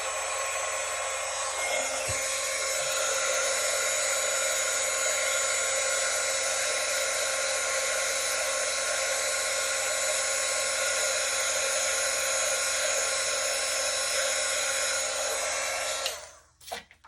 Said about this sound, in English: So I'm just going to grab my heat embosser right here and let it warm up. It's going to be loud for a minute